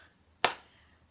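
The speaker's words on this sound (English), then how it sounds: "give a little clap" A single soft hand clap lands sharply in a quiet nursery rhyme session, then fades quickly into near silence.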